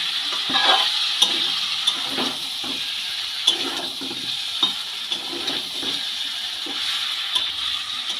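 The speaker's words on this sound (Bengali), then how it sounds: "চিংড়ি মাছগুলো দিয়ে এঁচড়ের সাথে ভালো করে কষিয়ে নিচ্ছি" Fried prawns are stir-fried with young jackfruit in a pan, giving a steady sizzle with regular scraping and tapping of the spatula, close and moderately loud.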